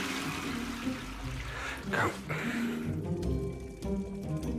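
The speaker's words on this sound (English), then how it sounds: "We'll better get flushing" A toilet flushing in a chateau under DIY restoration, a steady rush of water with a rising gurgle in the middle, close and continuous, while a voice speaks briefly.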